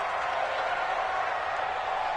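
A stadium crowd in a PS4 American football video game roars steadily ahead of a big third down late in a close game, a dense, continuous wash of cheering that holds at an even level throughout.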